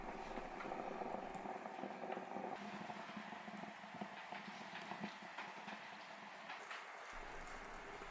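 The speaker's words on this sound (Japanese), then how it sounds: "ロケットストーブ特有のゴーッと空気を吸い込む" A homemade indoor rocket stove roars softly as it draws in air, a steady low rushing whoosh with faint crackles and pops from the burning fuel throughout.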